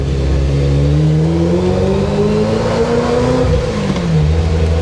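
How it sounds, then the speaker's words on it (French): A Ferrari 348 TS sports car engine revs up loud and close, the pitch climbing steadily then dropping back as the throttle eases off. "on a envie de mettre un coup d'accélérateur juste pour l'entendre"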